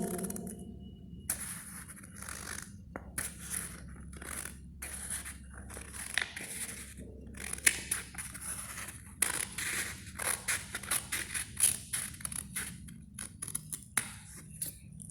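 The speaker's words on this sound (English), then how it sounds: "now I will cut my pattern as like this way" Scissors snip through a paper pattern being cut into two mirror halves, giving repeated close crisp cuts and paper rustles in uneven bursts, with short pauses between strokes and no speech.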